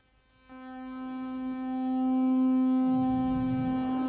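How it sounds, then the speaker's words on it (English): Steady drone from a Strega modular synthesizer with an echo effect, a sustained tonal hum that swells in as it triggers and grows louder, with rising feedback wash thickening toward the end, no voices. "you can hear that echo as it triggers"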